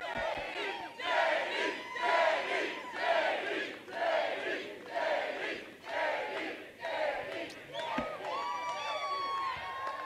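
A large outdoor crowd at a political campaign rally at Berlin Raceway in Michigan chants and roars in rhythmic waves, loud and massed, with an amplified voice carrying over it.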